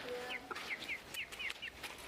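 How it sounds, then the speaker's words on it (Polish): Chicken clucking in short squawky bursts while being chased around a rural yard, moderately close, with rustling and movement noise underneath. "Ewa zagania kurczaka."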